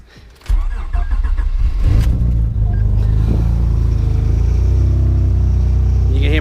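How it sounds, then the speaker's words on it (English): A cold start of a turbocharged 2006 Honda Accord J32A3 engine in neutral: a starter crank, then the engine catching with a loud low rumble that settles into a steady, close, heavy idle. "Make sure it's in neutral, and this is a cold start."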